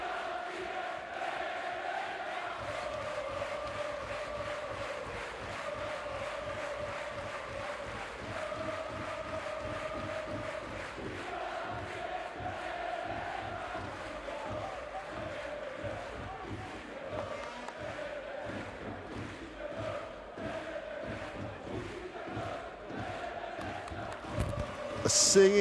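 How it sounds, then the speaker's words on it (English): Basketball fans in an arena at a final sing and clap in a steady rhythmic chant, a dense crowd roar sustained throughout with rising cheers at the end. "The singing, the clapping, the noise, both sets of fans. There's a big, big contingent of Avellino fans really putting some noise out"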